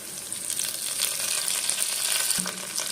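Onions sauté in a pan with curry leaves and a slit green chilli for greengram and coconut milk rice, giving a steady, loud, close sizzle with a brief clunk near the end.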